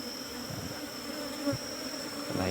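Honeybees from a hive being moved from a frame into cultivation boxes, a steady close dense buzz of many bees, with a few handling bumps near the end.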